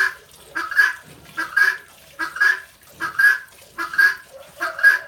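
A guinea hen gives repeated loud, harsh honking calls on a farm among roosters, six bursts in a steady pulsing rhythm, close and clear with no talk over them.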